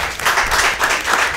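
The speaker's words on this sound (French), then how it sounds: "On applaudit, s'il vous plaît." An audience of students at a school quiz competition applauds with steady, dense clapping at close range, lasting just over a second.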